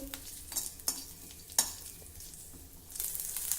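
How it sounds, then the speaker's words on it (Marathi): Green chillies roasting in oil in a pan make a soft, steady sizzle, broken by a few sharp scraping stirs. "त्यावर थोडं तेल घालूया आणि ह्या हिरव्या मिरची व्यवस्थित भाजून घेऊ"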